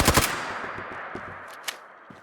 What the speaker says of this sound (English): you can take the little old handmade rifle and you can turn it into a really good machine gun